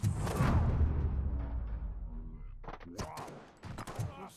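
Gunfire in the video game RoboCop Rogue City: a heavy, booming burst of shots up front, then sharp, scattered bangs after a quieter stretch, with some talk mixed in.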